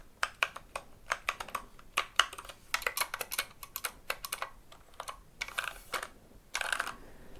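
Fast, close typing on a small mechanical keyboard in a wooden case, with dense clacking strokes in uneven bursts and a few brief pauses, heard alone without any voices.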